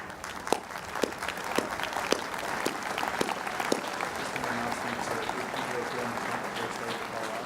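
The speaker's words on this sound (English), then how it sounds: "And let us applaud you" A commencement crowd at William & Mary applauds honoree Sheila Johnson, a dense, sustained wash of clapping from a large outdoor audience that holds steady throughout, with a few louder claps standing out early.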